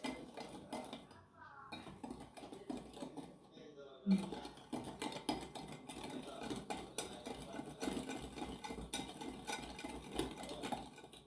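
A utensil stirs dry blueberry muffin ingredients in a bowl, giving soft, continuous scraping and clinking against the dish while a person talks over it.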